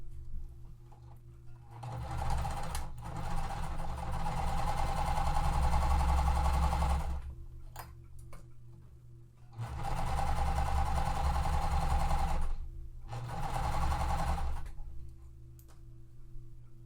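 A sewing machine stitches a quilt seam in two long runs of rapid, steady whirring, with short pauses between them and faint ticks as the fabric is repositioned.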